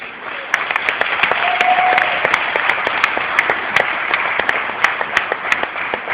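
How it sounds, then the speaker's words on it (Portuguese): A church congregation breaks into sustained applause, a dense bed of clapping with sharper individual claps standing out throughout, fairly loud and steady. "Dê uma aplauso ao Senhor por isso"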